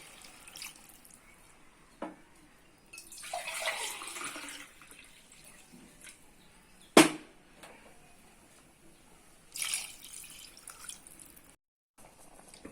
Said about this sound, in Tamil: நான் 2 உலக்கு தண்ணி ஊற்றிக்கிறேன்.